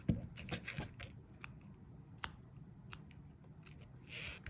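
Scissors trimming crochet yarn on a small crocheted heart, a few quiet close snips and clicks spread unevenly over a few seconds, with light handling rustle between them.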